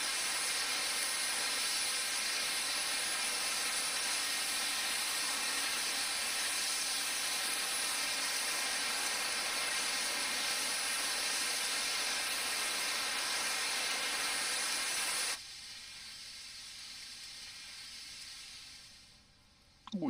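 Steady, loud broadband hiss of steam venting from a steam locomotive in Train Sim Classic, running continuously for about fifteen seconds before cutting off abruptly to a quieter cab background.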